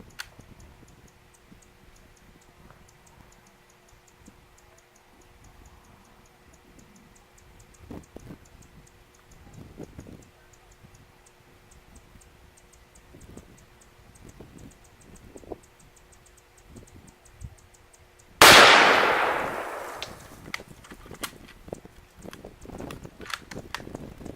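A single loud gunshot from an 8mm Mauser rifle firing a hand-loaded Speer 150-grain round with Reloader 15 powder cracks out near the end, after a long quiet stretch of faint outdoor ticking.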